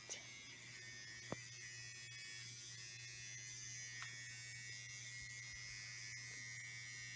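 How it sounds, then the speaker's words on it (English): An electric toothbrush being used to polish action figures gives off a steady, low mechanical buzz with a constant hum underneath, fairly faint, broken by a couple of small clicks. "What are you doing with your toothbrush?"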